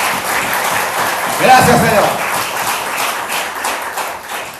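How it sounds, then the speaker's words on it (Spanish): A church congregation applauds during a sermon, a broad wash of clapping that swells briefly and continues under the preacher's voice and murmured responses. "denle un aplauso al Señor que viene pronto"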